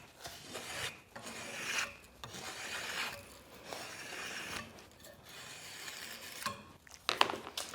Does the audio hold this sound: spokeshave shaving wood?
yes